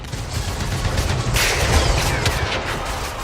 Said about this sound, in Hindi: भारी फायरिंग में आगे बढ़ना मुश्किल है